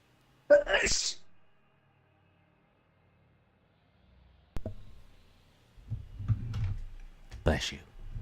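A person sneezes once, a sharp close burst right at the start. A long pause follows, then muffled voices and clicks.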